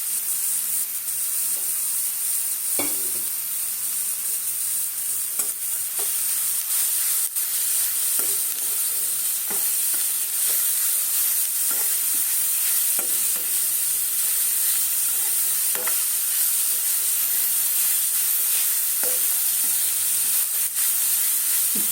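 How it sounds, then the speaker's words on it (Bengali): Grated carrots with cashews and raisins frying in ghee for carrot halwa, a continuous soft sizzle with regular light scrapes of stirring throughout, no talking. "ঘিয়ের মধ্যে এটা ভেজে নিচ্ছি।"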